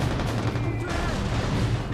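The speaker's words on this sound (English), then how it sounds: "Explosions are awesome." Video game gunfire and explosions set off by a cheat code, a dense, loud, continuous barrage of booms and shots with faint voice underneath.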